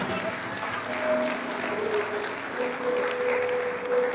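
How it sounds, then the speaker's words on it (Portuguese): Congregation in a church clapping steadily for a few seconds, a moderate wash of applause with faint voices mixed in. "Dê uma salva de palmas para o Senhor e fique de pé no seu lugar."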